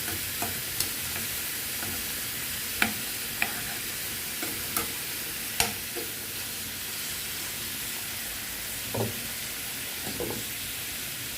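Fatty pork belly fries in a pan, rendering its oil with a steady, soft sizzle and hiss, scattered with small pops and crackles and occasional stirring, with no talk.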